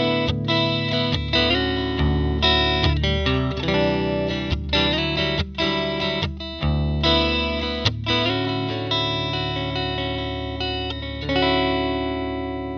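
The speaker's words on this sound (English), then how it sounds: "I'm playing a Fender thinline Jaguar through a Princeton reverb, and this is what the clean tone sounds like" Electric guitar chords from a Fender Thinline Jaguar ring out through a Fender Princeton Reverb amp on a clean tone, strummed steadily with sustained notes and a touch of reverb, loud and close.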